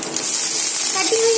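Cumin seeds fry in hot oil with a steady, bright sizzle that runs throughout at close range, with a faint tonal clink near the end.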